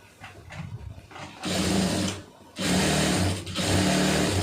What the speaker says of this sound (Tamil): இப்போ நமக்கு வந்து எத்தனை தையல் தேவையோ அத்தனை தையல் வந்து போட்டு கொடுத்துருவோம்.